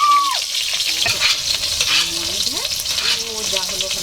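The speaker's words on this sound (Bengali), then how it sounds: "বেগুন ভাজা করবো, তার জন্য সরষের তেল দিয়ে দিচ্ছি" Eggplant slices frying in mustard oil in a kadai, a steady close sizzle with a spatula stirring and scraping through it, no talking.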